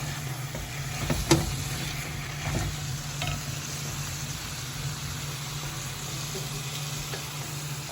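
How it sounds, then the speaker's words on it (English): Jamaican salt mackerel rundown stirred in a pot, a steady low simmering hiss with occasional soft scrapes of the spoon, close and continuous without talk. "Stir it in. Make everything nice and blended."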